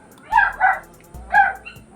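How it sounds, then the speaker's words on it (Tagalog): A dog barks three times in short, sharp bursts, two close together and then one more after a pause, fairly near over a quiet background. "ang ingay ng aso"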